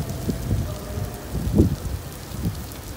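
Heavy rain pouring steadily in Saudi Arabia, with low rumbling thuds of drops or distant thunder rising and falling over the wash.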